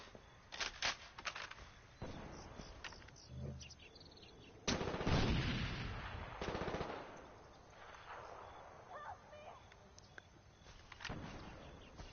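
Heavy machine gun fire in a video game, heard as repeated bursts of rapid shots with sharp isolated cracks and a louder sustained volley midway, against quieter background sounds.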